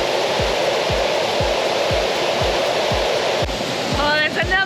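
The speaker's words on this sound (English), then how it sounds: "I can't hear myself think, the water's so loud" A massive waterfall with a long drop roars loudly and steadily from up close, filling the whole scene, with a regular low thumping running beneath it and a few chirpy tones near the end.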